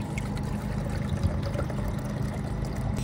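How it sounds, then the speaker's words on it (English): A bottle of water is dumped into a Jetboil camping stove pot, a steady close gurgling pour that runs for about three seconds with a low rumbling undertone. "dump a bottle of water in"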